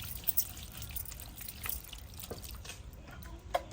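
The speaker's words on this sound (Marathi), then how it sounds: "पालक धुतल्यानंतर आपण गाजर धुवून घ्यायचे स्वच्छ" Carrots being washed in water in a kitchen, with soft splashing, trickling and a few drips, quiet and close, with no talking.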